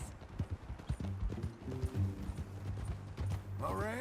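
Horse hooves clip-clopping in Red Dead Redemption 2, a steady run of soft, close hoofbeats beneath a voice talking throughout, with a faint whinny-like rise near the end.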